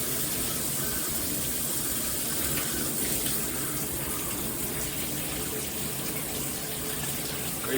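Steady, dense hiss of water pouring from a 10-inch all-metal high-pressure rainfall shower head, continuous and close with no pauses.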